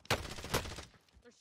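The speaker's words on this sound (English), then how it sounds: "They're shooting at me." In the Call of Duty Warzone video game, two sharp bursts of gunfire crack out close together, each tailing off quickly before the clip falls quiet.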